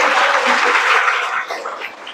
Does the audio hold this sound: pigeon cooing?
no